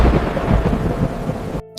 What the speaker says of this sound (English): Rain continued pounding against the windows